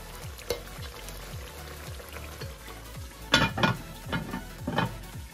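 Meat stews in a pan with freshly fried onions and a splash of water, making a soft sizzle under a few louder scrapes and clanks from stirring near the end.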